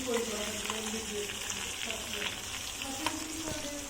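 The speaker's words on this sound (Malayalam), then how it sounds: "നല്ല ഡീപ്പ് ഫ്രൈ ആയി വരുന്ന സാധനം" Snakehead fish deep-frying in a covered pan, a dense, continuous close sizzle of hot oil with faint bubbling crackles, steady and loud throughout.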